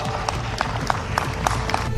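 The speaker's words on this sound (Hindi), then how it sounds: "वहां मौजूद लोग तालियां पीट रहे थे" An audience at a public speech by Pakistani official Mohsin Naqvi claps in a steady, moderately loud wash of applause, with scattered sharper hand claps standing out against the crowd noise.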